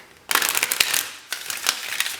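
Tarot cards are shuffled by hand in two quick riffling bursts, crisp and close, with a short pause between them.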